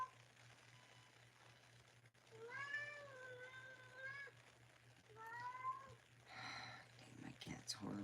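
A cat gives two drawn-out, wavering meows, the first longer and more yowling, in a quiet room with a steady low hum, followed by some faint rustling and clicks.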